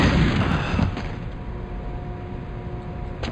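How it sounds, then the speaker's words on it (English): A concussion rifle going off in Jedi Knight: Mysteries of the Sith, heavy booming blasts that roll into a low, rumbling wash with a steady hum lingering underneath. "let's bring out our fancy schmancy concussion rifle"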